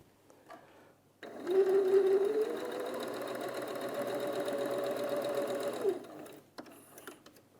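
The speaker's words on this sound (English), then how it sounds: "take that to your machine, pop a couple of pins in if you need to, and then stitch your 1/4 inch seam" A sewing machine runs a quarter-inch patchwork seam in one continuous burst of rapid, even stitching, close and fairly loud, then stops, with quiet handling before and after.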